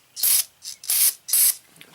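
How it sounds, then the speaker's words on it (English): Aerosol spray blasted into the small engine of a Husqvarna rear tine tiller in four short hissing bursts, close and loud, with brief pauses between them. "hit it with some spray"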